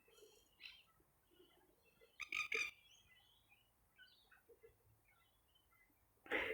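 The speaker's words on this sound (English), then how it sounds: "Beautiful, and of course the birds. I hope you enjoyed listening to them" Scattered calls from small creatures, with a few sharp chirps and croaks against quiet outdoor stillness, no voices.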